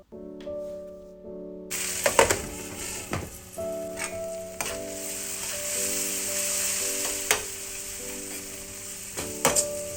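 Tomatoes with spices cooking on a medium flame give a soft continuous sizzle under a lid, with a few sharp clinks and knocks and a steady sustained tone running underneath.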